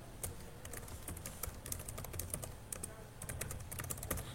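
Program code being typed on a computer keyboard, a close, steady run of quick plastic keystrokes with irregular rhythm and no talking.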